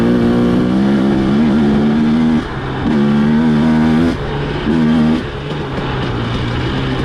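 A 2018 Husqvarna-style TE250 two-stroke dirt bike fitted with a JD jet kit, in fourth gear as the rider flicks the throttle; a loud, close engine drone rises and falls in surges, continuous throughout with no talk.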